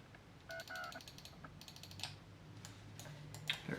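Several sharp plastic clicks from the side buttons of a gaming mouse, one of the Zowie EC2, Razer Viper, Logitech MX or Roccat Kone models, come close and crisp in small bursts with short gaps, over a faint low hum.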